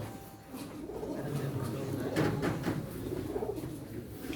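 Soft coos of game pigeons murmur close by at a pigeon auction, low and rolling, with background rustling and faint voices nearby.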